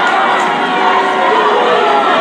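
A high school boys basketball crowd fills an Indiana gym with a dense, steady murmur of chatter, loud and close, with no single cheer standing out.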